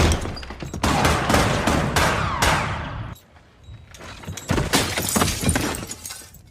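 Bursts of rapid gunfire from a cowboy film, with sharp cracks and shattering, a brief lull, then another volley of shots.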